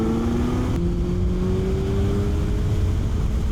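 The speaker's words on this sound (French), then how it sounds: "on va chauffer la moto" A Suzuki Hayabusa motorcycle engine idles while warming up, a steady low rumble held close and even for several seconds with a faint rising tone above it.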